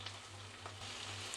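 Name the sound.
brinjal pieces sizzling as added to hot tempering oil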